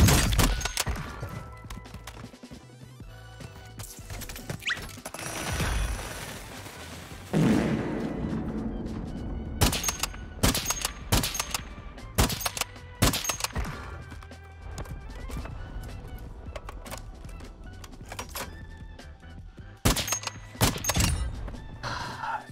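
Sniper rifle gunfire in the video game Warzone, a handful of sharp loud shots scattered across busy game noise, some spaced apart and a few in quick pairs.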